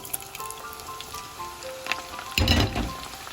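Steady crackling sizzle of chicken fillet frying in hot oil, swelling into a louder burst of spitting near the end.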